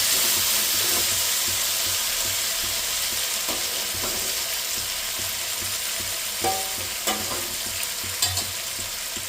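Turmeric being stirred into potatoes and dried fenugreek leaves frying in a pan, with a steady bright sizzle and occasional scraping clicks of the spoon, close and fairly loud.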